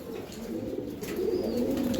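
A flock of English tippler high-flyer pigeons coos in a short burst, dense overlapping murmuring calls close by that grow slightly louder.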